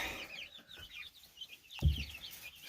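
Chicks and ducklings in a brooder box kept at 80 degrees cluck and peep softly at close range, with one brief louder thump partway through.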